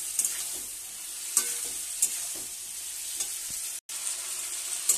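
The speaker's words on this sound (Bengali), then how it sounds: "আর একটু কষে নেবো ভালো করে" Spices and small rohu-type fish pieces fry in a pan for a drumstick curry, a steady close sizzle broken by scraping stirs and a brief drop to silence near the end.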